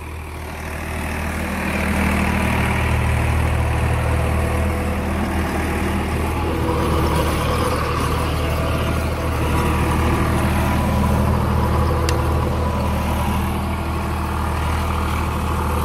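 Old-model Swraj tractor engine driving a Lendforce rotavator above 1600 rpm, a steady heavy low-pitched drone with a constant rumble and mechanical clatter, loud and continuous throughout without talk.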